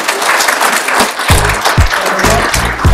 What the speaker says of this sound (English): Round of applause for George.